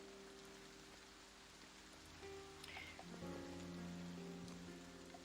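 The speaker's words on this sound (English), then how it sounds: "given what Sirenscape's doing, I'm assuming it's raining" Rain ambience from a Sirenscape soundscape, a steady soft hiss of drops on a surface with a faint tonal hum underneath, swelling slightly midway and continuing without speech.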